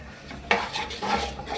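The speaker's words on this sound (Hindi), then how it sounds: "अब मैं इस मसाले को भूनूंगा हल्का हल्का।" Green chilies and masala frying in ghee in a pot for palak gosht, with metal spoon scrapes and clanks against the pot over a soft sizzle, close and moderately loud, no talk.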